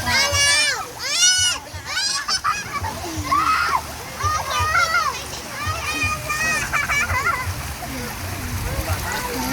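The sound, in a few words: children kicking and splashing in pool water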